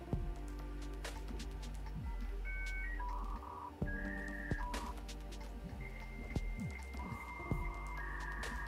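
A dial-up modem dials out over a home phone line: a faint run of short electronic tones and beeps with brief pauses, over a low steady hum.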